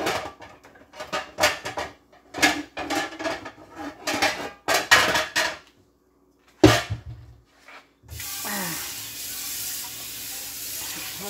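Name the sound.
putting sweet yams into a pot to cook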